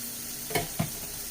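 Eggs fry in a hot pan with a steady low sizzle, and two short clinks or stirring scrapes stand out against it. No one speaks.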